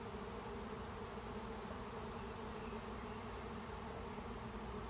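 Steady, unbroken buzzing of a honeybee swarm settling into an empty five-frame nuc box outdoors, a faint, even hum with no talk.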